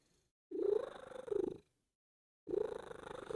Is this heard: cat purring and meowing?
yes